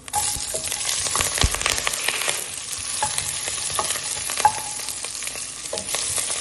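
Fennel seeds and a cut green chilli fry in hot oil, giving a steady close sizzle with scattered clinks and scrapes of stirring throughout, no voices.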